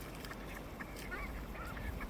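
Ducks by a backyard pool give soft, scattered honking quacks, a few faint calls over a steady low background hum.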